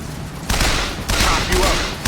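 Gunfire rings out in the video game Bioshock Infinite as two loud, dense bursts of shots, each lasting about half a second, close and forceful, with no voices over them.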